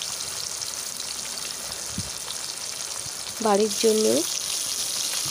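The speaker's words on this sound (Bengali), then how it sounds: "এবার সব কটা মাছ পরপর করে ভেজে নেব" Bhola fish frying in hot oil for a mustard curry, a continuous crackling sizzle heard up close, with a brief spoken phrase over it.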